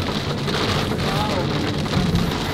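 Heavy rain drumming on a vehicle during a downpour, a dense continuous hiss of drops close by, with a faint voice underneath.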